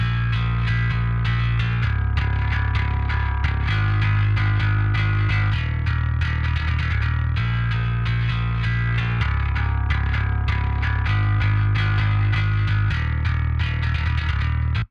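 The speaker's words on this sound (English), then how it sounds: "you can hear obviously when the EQ's not engaged, the bass jumps forward" A mixed bass guitar line played in a full track with its EQ toggled off and on, a loud sustained low-end groove with repeating notes and dense accompanying instruments throughout.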